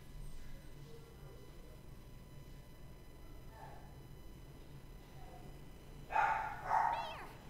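Barking dogs in the video game Shantae and the Seven Sirens, a couple of short, moderately loud yelping barks near the end after a quiet stretch, under a faint game background with some talking.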